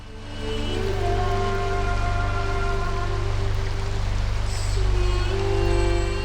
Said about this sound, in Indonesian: Hujan menyelimuti Larantuka sepanjang hari saat prosesi Semana Santa dimulai.